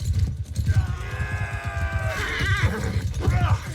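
A horse whinnies loudly over busy Mount & Blade II: Bannerlord game sounds and low rumbling, with harmonic neighing tones stretching across the middle of the clip.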